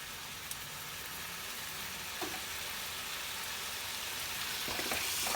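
Chicken frying in yogurt masala in a pan, a faint continuous sizzle and crackle with a few soft knocks from stirring, quietly steady and without voices.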